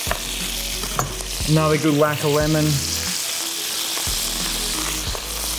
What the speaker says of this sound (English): Watch out for the sizzle.